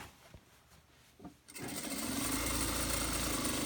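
A sewing machine stitches across the folded top of a fabric bag, starting after a few soft handling taps and settling into a loud, steady, fast mechanical whir close by.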